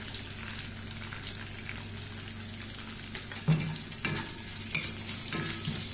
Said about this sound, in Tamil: வெங்காயம் வதங்கி வரட்டும்.